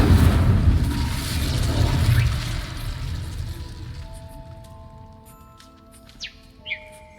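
The Incendio fire spell in Hogwarts Legacy bursts out as a loud, roaring blast that fades over several seconds into quieter game ambience with a few light chirps and tones.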